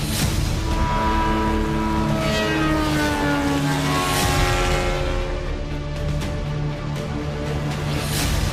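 A military drone, some acquired from Israel and some built in India, drones steadily overhead with a loud, continuous propeller-engine hum that rises and falls slightly in pitch, with no voices.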